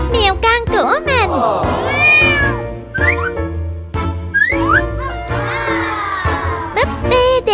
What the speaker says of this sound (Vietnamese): Mèo con của mình.